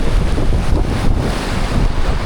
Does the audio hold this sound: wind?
yes